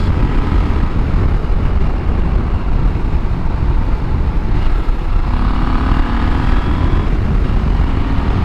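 A 2022 KTM 890 Adventure R motorcycle accelerates hard, engine roar steady and loud under heavy wind buffeting throughout, with the pitch climbing gradually.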